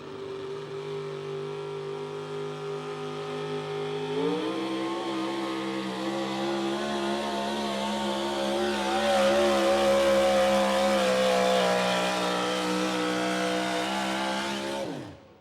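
A modified 4x4 pulling truck at an outlaw truck pull in Wisner, Nebraska, roars under load, its engine revving up partway through to a higher, harsher howl and holding loud before cutting off abruptly.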